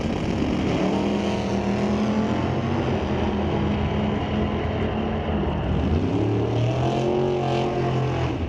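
A 1978 Z28 Camaro launches in a drag race, its engine roaring loud and steady, then rising in pitch as the car accelerates hard down the strip, with no talk.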